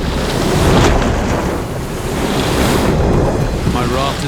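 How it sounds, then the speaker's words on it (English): Big surf and waves at sea off sandbanks, a loud continuous roar of breaking water mixed with heavy wind buffeting the microphone, close and unbroken. "Just offshore lie huge sandbanks and big surf."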